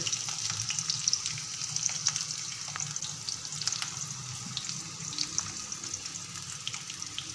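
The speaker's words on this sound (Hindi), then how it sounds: "एक कढ़ाई में हमने प्याज ली है सबसे पहले प्याज डालिए" Onions fry in a kadhai with a steady, close hiss and sizzle that runs unbroken throughout, with faint crackles and no talking.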